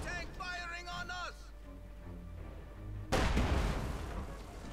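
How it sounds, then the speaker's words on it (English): Enemy tank fire in Company of Heroes 2 erupts as one sharp, loud blast near the end of the clip. Battle noise and a short stretch of talk come before it. "Enemy tank firing on us."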